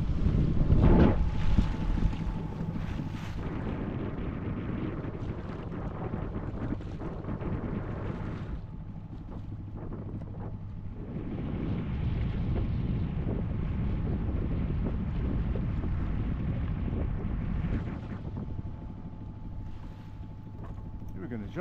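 A sailboat under way on the Baltic Sea in cold April wind, with steady low wind buffeting and water rush throughout, strongest at the start, and no talk.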